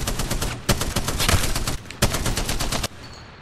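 Gunfire from weapons in Apex Legends on Nintendo Switch: rapid automatic bursts of loud, close shots in two strings, separated by a short pause, then cutting off.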